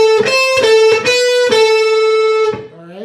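Electric guitar playing a lick, distorted and loud, with quick hammer-on and pull-off notes in a choppy rhythm, then a sustained ringing note that bends away at the end; no voice.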